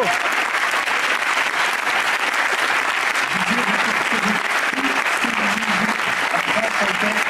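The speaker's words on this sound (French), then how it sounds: "J'aimerais bien que vous les applaudissiez." Steady, loud audience applause for La Grande Sophie and her musicians on a French TV show, continuous clapping throughout, with a voice faintly audible under it partway through.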